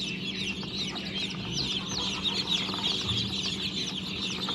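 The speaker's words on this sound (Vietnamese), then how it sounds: "Đây là đàn gà hơ mông vừa mới nở ngày" A large flock of more than a hundred newly hatched H'mông chicks cheeps in dense overlapping high peeps, a constant close chorus with no voices.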